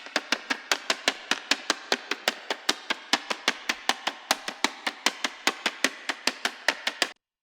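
Paper tapped right against a microphone and used as a beat sample, giving a steady, rapid run of close, dry, crackly taps for about seven seconds before stopping abruptly.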